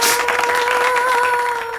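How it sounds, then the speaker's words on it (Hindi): A studio audience at a TV game show breaks into steady applause, a dense wash of clapping that holds evenly throughout with a faint tonal hum underneath. "एक बार जोरदार तालियां तुलसी जी के लिए।"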